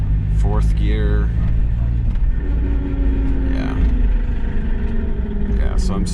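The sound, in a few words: Mazda Miata driving in fourth gear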